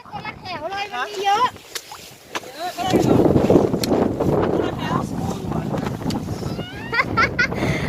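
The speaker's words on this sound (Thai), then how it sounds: "ลมก็แรง" Strong wind blows outdoors in a vegetable garden during a red lettuce harvest. A voice speaks briefly at first, then a loud, rushing wind roar buffets the microphone continuously.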